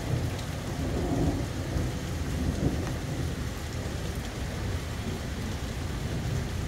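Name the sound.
rain falling during a storm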